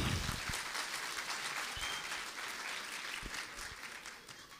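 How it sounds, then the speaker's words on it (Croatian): An audience at an evening singing contest applauds: dense, sustained clapping from a large crowd, steady and fairly loud throughout, with no talking over it. "pozdravite i njih jednim velikim aplauzom"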